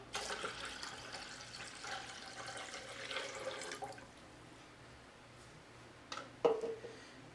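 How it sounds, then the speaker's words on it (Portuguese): Iced water, 600 ml, pours into a juice mixture with a faint, steady liquid rush that tapers off, followed by a few soft clinks and a brief splash near the end. "Vou colocar 600 ml de água gelada."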